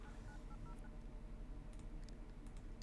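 Faint telephone dialing tones in The Sims 2, a few short beeps at the start under a steady low hum of game background sound.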